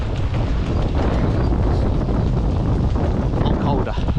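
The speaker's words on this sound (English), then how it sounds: "Windy this way." Strong wind buffets the microphone continuously during an outdoor run, a loud broadband roar with gusty rumble filling the whole stretch.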